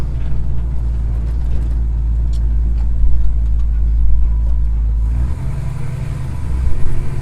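An old vehicle's engine runs loud and close while driving, a heavy steady drone that shifts in character partway through, like a gear change, then carries on; no talking.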